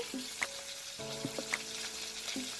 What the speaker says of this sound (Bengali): তেলের মধ্যে মাছগুলো এরকম করে দিয়ে ভেজে নিতে হবে